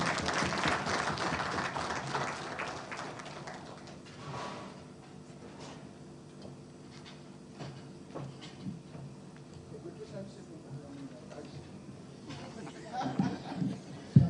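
Scattered round of applause in a budget presentation hall, loud dense clapping at first that quickly thins into sparse claps with murmuring and talk over it.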